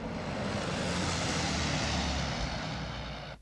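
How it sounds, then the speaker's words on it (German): Engine drone of German bomber aircraft flying toward the British coast, a loud, steady, continuous roar that stays level throughout and cuts off abruptly at the very end. "flogen deutsche Bomber noch im gleichen Jahr in Richtung britischer Küste"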